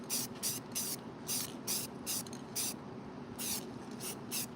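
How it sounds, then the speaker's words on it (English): Spray coating applied to a craft piece outdoors in short hissing bursts, about ten quick puffs in a row, close and fairly loud over a steady background rumble. "I don't want to spray the computer."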